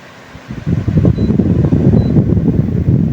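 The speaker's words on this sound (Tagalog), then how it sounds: "Ganda nga ng electric pan na to, nakakatuwa." A Turbo electric fan switches on after a brief quiet moment and then runs with a steady, close whooshing hum of moving air.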